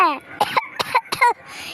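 Several rough coughs and throat-clearing bursts come from a person close by, each voiced and strained, fairly loud with short gaps between them.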